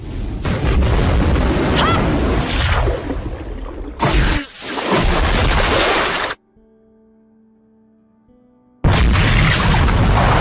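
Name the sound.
anime explosion of police cars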